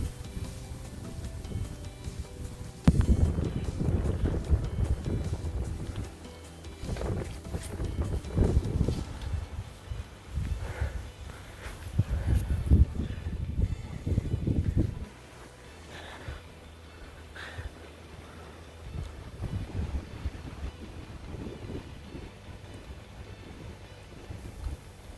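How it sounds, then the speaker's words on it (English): Wind gusting over an exposed high mountain trail in Big Bend National Park on a chilly day, low roaring rushes that swell and fade in waves across the clip, close and buffeting like wind on a microphone, with no talk. "You can hear the wind building up, like you're about to hit the top."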